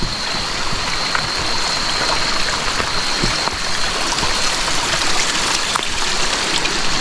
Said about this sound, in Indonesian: Udah mulai gerimis-gerimis gini.